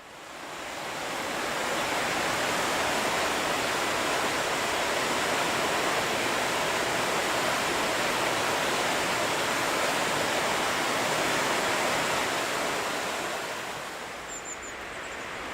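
The River Avon flowing beside a walking path between Linlithgow and Falkirk, a steady broad rushing of water that swells in, holds loud and even, then eases off at the end, with no voices.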